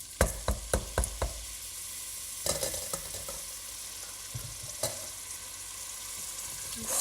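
Rice and mung beans tumble into a spiced pan for kitchari with a few sharp clatters, then stirring and soft scraping follow amid a low sizzle, with a couple of louder knocks near the end.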